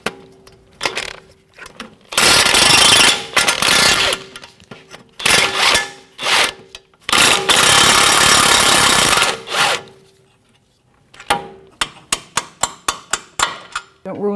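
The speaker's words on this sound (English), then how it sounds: "with a 21mm socket, 1/2-inch gun, and a 21mm wrench, we're going to take our strut bolts right out" A half-inch impact gun with a 21mm socket rattles off the lower strut bolts on a 2007-2017 Jeep Patriot front strut, two long loud bursts followed by a quick string of short sharp blips, with no talking.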